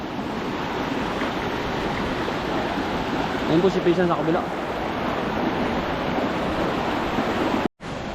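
A large river rushes past in a steady, broadband roar of flowing water, with wind buffeting the microphone and a person speaking briefly over it.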